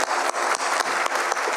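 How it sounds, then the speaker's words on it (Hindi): A seminar audience in Delhi gives loud, dense applause for Gambhir Singh, a continuous roar of clapping that fills the room. "गंभीर सिंह साहब को भी एक बार जोरदार तालियां बताइए।"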